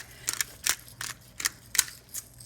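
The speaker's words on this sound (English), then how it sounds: "I also put some fresh ground pepper. Remember, kids love to do the pepper grinder." A handheld pepper grinder crunches fresh peppercorns over pesto, about six quick gritty grinding bursts in an even rhythm, close and fairly quiet with no talking.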